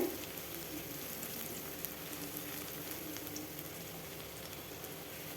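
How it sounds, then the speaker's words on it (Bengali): Pomfret fish frying in oil in a pan, a dense, even sizzle and crackle that runs steadily throughout without pauses, moderately quiet and alone. "দেখুন এইভাবে ভাজতে ভাজতে একদম লাল লাল কালার চলে আসবে বেশ কিছুক্ষণ সময় ধরে ভাজতে হবে"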